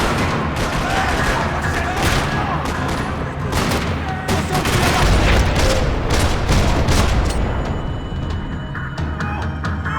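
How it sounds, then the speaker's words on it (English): Dense gunfire rattles through a parking lot in the video game Max Payne 3, rapid loud shots and bursts continuing for ten seconds with barely a pause. "Another parking lot rattling with gunfire."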